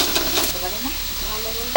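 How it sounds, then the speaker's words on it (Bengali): Homemade kalai dal bori (lentil dumplings) fry and get stirred in a pan, a short burst of close sizzling with scraping and a sharp clink at the end. "শাশুড়ি মা হাতে বড়ি দিয়েছে, এটা এখন ভাজা হচ্ছে"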